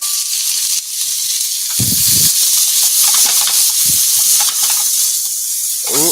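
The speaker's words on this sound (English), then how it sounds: "Hear that nice sizzle of the onion?" Onion sizzles in olive oil in a hot pan, a loud, steady hiss filling the whole stretch, with a few brief low bursts of stirring or spatter and no talking.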